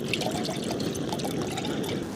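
Water pours steadily into a cup for coffee at a winter campsite, a close, continuous splashing and trickling stream lasting a couple of seconds.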